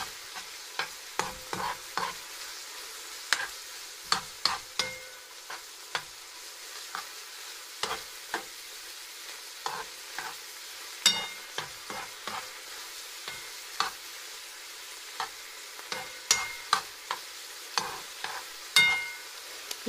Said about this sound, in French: Je veux des lardons bien cuits.